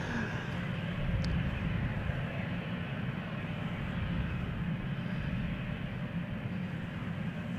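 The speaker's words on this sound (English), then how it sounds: "This is Cargolux Italia going to Milan" Cargolux Italia cargo plane departing Amsterdam Schiphol, a loud, steady engine roar that holds without a break across the whole stretch.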